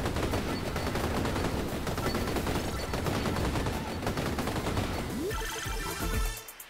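In Vampire Survivors, upgraded rocket weapons fire in a dense, loud, continuous barrage of rapid game blasts that stops abruptly near the end, with no talk.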